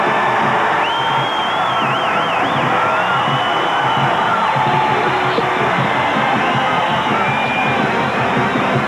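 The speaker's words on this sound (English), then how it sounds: "The crowd will cheer them out." Crowd at a 1982 Montana State versus Idaho State college football game, a loud continuous roar of cheering spectators with whistles and whoops rising above the din.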